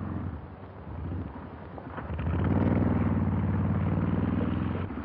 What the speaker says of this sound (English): There's a guy on a motorcycle.